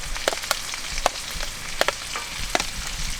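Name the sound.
onion frying in a pan for fried rice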